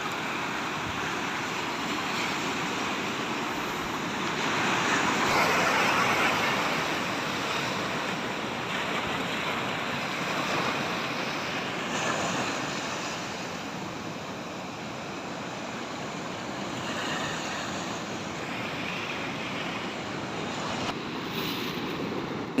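Ocean waves break and wash continuously on a beach where sea worms are dug for fishing bait, a steady broad roar mixed with wind buffeting the microphone and no voices.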